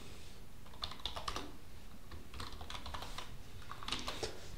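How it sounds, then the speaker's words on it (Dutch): Faint clicks of typing on a computer keyboard come in quick irregular bursts, soft and close in a quiet room, with no talking. "En in één bestand ga ik ook gewoon nog wat typen."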